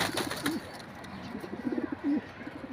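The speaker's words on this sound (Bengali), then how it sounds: "এটা হচ্ছে 35 পাকিস্তানি কবুতর" Pakistani pigeons in a loft give a few soft, rounded coos, close and moderately loud, with a faint steady background hiss between calls.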